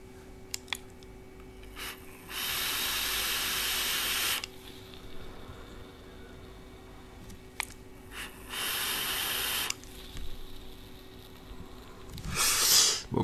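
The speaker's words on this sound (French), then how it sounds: "Il fait de la vapeur." Geek Vape Karma RDTA vaporizer firing and producing vapour, heard as several sustained hissing bursts of about two seconds each separated by quieter gaps, fairly close and alone.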